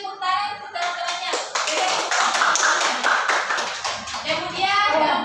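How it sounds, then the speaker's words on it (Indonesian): A classroom group claps for classmates after a presentation in a teaching session, a dense burst of hand claps running throughout, with some children's voices mixed in. "tepuk tangan untuk teman-temannya"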